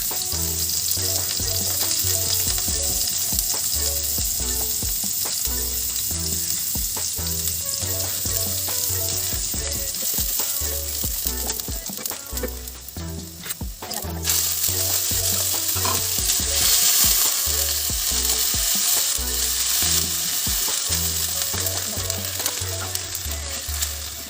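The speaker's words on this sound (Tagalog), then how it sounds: "Ayan, sautein natin yung sibuyas." Onions sauté in a pan for sardine pasta, giving a loud, continuous close sizzle and crackle with faint stirring clatter throughout, no voices.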